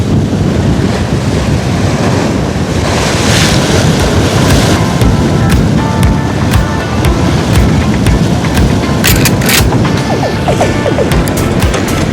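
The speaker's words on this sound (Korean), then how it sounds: "바람이 제법 부는데요" Strong wind blowing along the Jeju coast, a loud continuous roar buffeting the microphone over rolling surf, with no break throughout.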